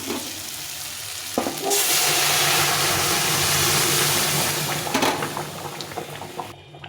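Dal with bottle gourd bubbles in a pot, giving a loud, steady sizzling hiss that swells after a quieter start, holds for several seconds, then eases off.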